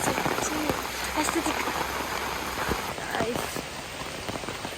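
Steady rain falls outdoors on a monsoon trip to Kakkad, with a continuous even patter of drops and occasional nearby splashes throughout.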